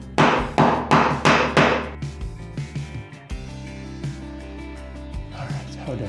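A hammer whacks a stair railing down through a 2x4 wrapped in a towel, landing five loud, evenly spaced muffled thwacks up close before the strikes stop and a low, ringing resonance carries on.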